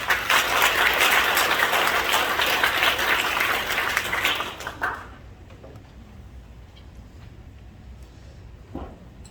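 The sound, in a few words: applause as the church elder comes forward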